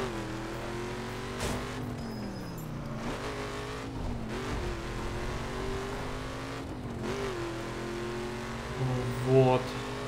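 A car engine in The Crew racing game drones and revs continuously, its pitch rising and dipping as the throttle is pushed hard, with a brief louder burst near the end.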